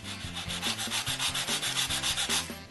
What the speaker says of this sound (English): I have to sand them a little.